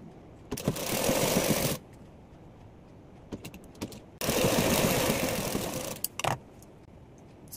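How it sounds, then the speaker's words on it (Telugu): An electric sewing machine stitches silk sari fabric pieces for an umbrella-cut lehenga in two close, rapid whirring bursts, separated by quiet pauses with small handling clicks. "సో స్టిచింగ్ స్టార్ట్ చేద్దాం"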